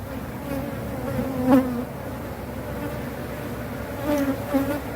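Honey bees from a defensive hive buzz steadily around the comb at close range, with a few individual bees swelling louder as they pass near.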